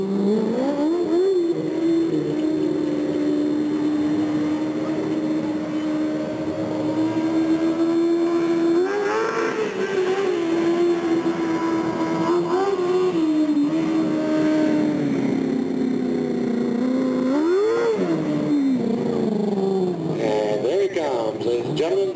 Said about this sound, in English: Chris will take his victory lap with the checkered flag in